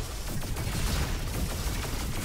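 The Arctic rifle fires in the robot shooter Roboquest, a dense, continuous rattle of rapid shots mixed with game effects, loud and steady throughout with no voices.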